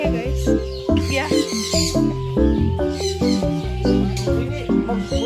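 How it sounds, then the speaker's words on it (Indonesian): A macaw parrot calls loudly at close range in an outdoor nature park, harsh squawks recurring over about five seconds while people talk nearby. "Ini burung makau."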